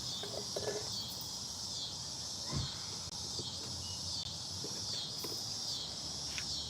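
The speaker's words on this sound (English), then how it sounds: "And we're out here with the cicadas." Cicadas drone outdoors in a steady, high-pitched buzzing chorus that continues without a break, with a few faint knocks and rustles nearby.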